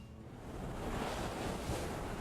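Wind-driven waves on Minnesota's North Shore of Lake Superior, a continuous broad rush of surf mixed with wind buffeting the microphone, steady and fairly close.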